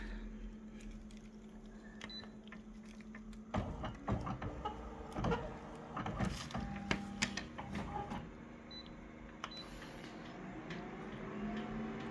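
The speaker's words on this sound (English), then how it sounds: "we're going to just press it into the photocopier" A photocopier enlarging an image to 400% whirs and clatters, a low mechanical hum with bursts of rattling and scanning noise building midway, then settling into a steady run with small beeps.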